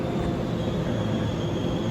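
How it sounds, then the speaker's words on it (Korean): A train pulling into the platform at Yongsan station, a steady, continuous low rumble with broadband rolling noise that stays even and close throughout, with no voices. "저게 들어오는 거 보니까 통과하는 열차가 아니라 저게 지금 입선하고 있는 것 같습니다"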